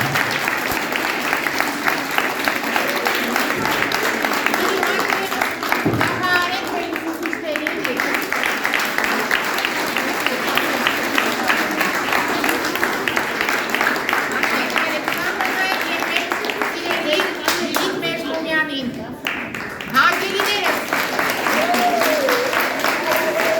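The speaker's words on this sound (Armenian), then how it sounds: "Բոլորս եկեք նորից կրկին անգամ ծափահարենք մեր բալիկներին։" An audience applauds a children's choir at a Yerevan school cultural event, steady sustained clapping filling the room for over twenty seconds, with some voices mixed in beneath.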